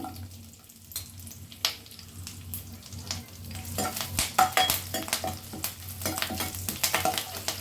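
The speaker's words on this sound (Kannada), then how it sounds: "ಈಗ ನೋಡಿ ಎಣ್ಣೆ ಬಿಸಿಯಾಗಿದೆ ಇದಕ್ಕೆ ನಾನು ಕರ್ಬೇವು ಸೊಪ್ಪು ಹಾಕೋತಾ ಇದ್ದೀನಿ ಹಾಗೆ ಹಸಿರು ಮೆಣಸಿನ್ಕಾಯಿ ಹಾಕೋತಾ ಇದ್ದೀನಿ" Curry leaves and green chillies hit hot oil, giving a steady sizzle that grows louder and crackly partway through, with sharp spattering pops and occasional stirring clatter, close and alone.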